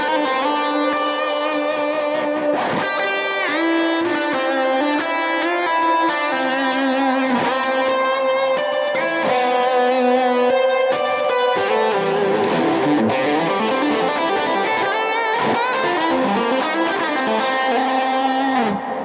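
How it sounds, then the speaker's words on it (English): A 2010 Suhr Modern LE electric guitar plays on its bridge pickup through a Tube Screamer into an AC30 amp profile with a long reverb, giving sustained overdriven chords and notes with a lush, washing tail and no talking. "a tube screamer going into my AC30 profile and a very long reverb to add a bit of ambience"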